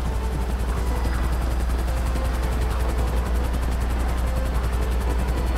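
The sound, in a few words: helicopter in video game GTA Online Cayo Perico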